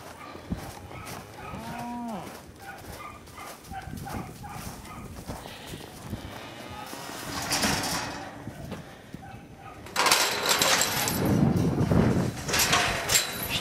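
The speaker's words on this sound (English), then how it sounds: "now we'll go ahead and bring the sheep and calves back into their pen" Cattle low repeatedly and sheep bleat as the animals are herded into their pen after a snowstorm, with hoof clatter and shuffling; the calls vary from near to farther off, and the sound grows louder and busier toward the end.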